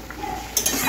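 Fish frying in hot oil in a pan, a steady soft sizzle with a brief clink of a utensil near the end.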